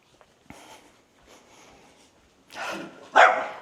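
Several dogs bark and yip at each other outdoors, a few scattered barks early on building to louder, closer bursts near the end.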